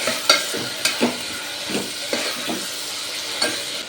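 Onions and potatoes frying in a pan while being stirred, a steady hiss of sizzling broken by repeated scraping strokes and light metallic clinks of the spoon against the pan, close and fairly loud.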